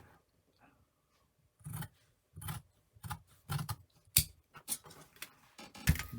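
Shears snipping through fabric interfacing, following a pointed shape: a quick series of crisp, close cuts with brief pauses between them, quiet and with no talking.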